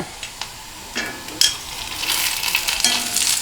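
Cut kolukattai pieces fry with onion, curry leaves and dried chillies in a pan, stirred with a few scraping strokes over a rising close sizzle.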